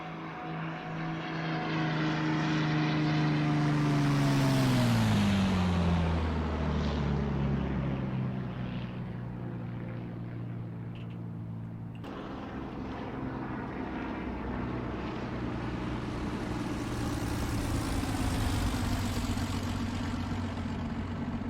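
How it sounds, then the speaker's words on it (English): A P-51 Mustang piston engine in the X-Plane flight simulator, a loud continuous propeller drone that drops in pitch early on and then holds a steady rumbling tone, with no voices. "Particularly with the P-51. It sounds so good,"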